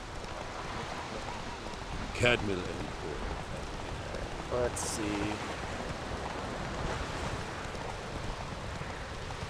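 Rain in the video game Witcher 3: a constant dense patter of falling rain, with a few short bursts of speech over it.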